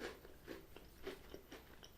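Soft, close crunching of a Border's dark chocolate ginger biscuit being chewed, faint, steady bites repeating at a quick, even pace.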